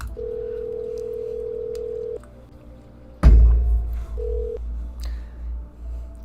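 A phone line's steady dial tone breaks off, followed by a thump and the quick clicks and brief tones of a number being dialed on a telephone, all without talk.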